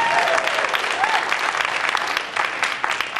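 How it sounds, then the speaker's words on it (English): An audience at Ottawa Idol auditions applauds the judges with steady, full clapping that fills the whole stretch at a fairly close, even level. "And they do deserve a round of applause."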